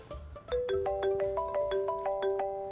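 A phone rings during a call as a bright electronic ringtone plays a rising melodic pattern of repeated tones, loud and close, with no talk over it.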